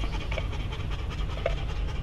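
A dog pants steadily and close by, quick rhythmic breaths running the whole time, right after an eight-hour car trip, parked beside a 1964 or 1965 Plymouth Roadrunner.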